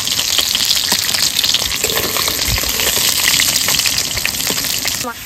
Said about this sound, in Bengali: তো মাছগুলো ভাজা রেখে তুলে নেবো, আর বাকি যে কটা আছে ভেজে নেবো।